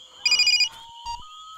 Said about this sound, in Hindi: तेरा फोन है।